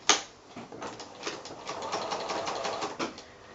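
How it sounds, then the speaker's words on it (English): A sewing machine stitches a folded flange strip onto a quilt along a quarter-inch seam, a close, steady rapid chatter of the needle that starts with a sharp kick and runs on evenly. "I'm going to go to the machine and sew with my 1/4 inch seam allowance, including that folded strip"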